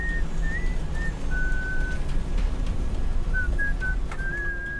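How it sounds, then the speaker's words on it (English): A co-pilot whistles a wandering, unhurried tune inside an airliner cockpit, faint against a constant heavy rumble of engine and cabin noise, with no talking. "when we heard the co-pilot start whistling"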